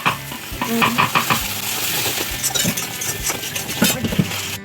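A poppy seed and sesame paste is stirred with water in a frying pan for onion posto. The close spatula scraping is busy and continuous over a strong sizzle, with no talk.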